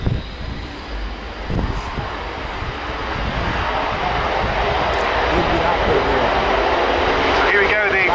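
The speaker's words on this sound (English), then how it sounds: "So here we go, the 2010 display of the Swedish Air Force Saab JAS-39 Gripen." Swedish Air Force Saab JAS-39 Gripen jet fighter flying its 2010 air show display at RAF Fairford, a steady, loud, broadband jet roar that builds gradually and holds without a break.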